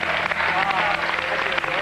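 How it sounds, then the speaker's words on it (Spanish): Studio audience applause on an Argentine TV hidden-camera comedy show, a brief burst of dense clapping mixed with voices and crowd noise. "Un aplauso para Mónica."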